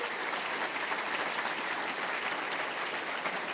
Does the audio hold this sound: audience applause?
yes